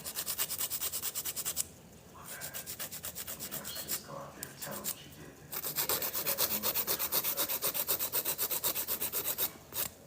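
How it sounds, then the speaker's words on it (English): Acrylic nail tips being filed with a coarse 80/80 grit nail file, rapid rhythmic scraping strokes up close in several bursts separated by short pauses, no talking. "These 80/80 grit files should only be used on the tips because they're coarse."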